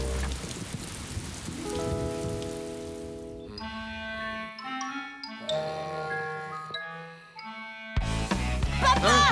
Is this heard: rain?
yes